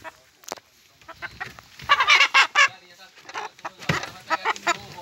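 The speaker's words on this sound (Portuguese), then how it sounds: "Com minhas galinhas de raça, né?" Purebred hens clucking close by in a lively series of short, rhythmic calls, some louder bursts rising and falling, with a person speaking briefly in the background.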